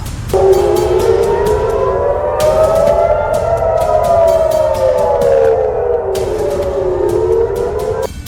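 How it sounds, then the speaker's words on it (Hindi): A loud missile attack air raid siren in Haifa, Israel wails continuously, its pitch rising and falling in slow sweeps, with clicking noise bursts over it. "मिसाइल या रॉकेट अटैक वाला सायरन भी बजा"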